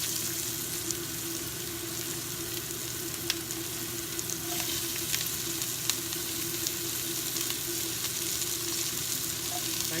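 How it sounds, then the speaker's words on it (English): Onions frying in rendered beef fat in a stew pot make a steady, close sizzle with faint crackles and light stirring throughout. "There's fat in the pot from the beef. I'm going to start with my onions."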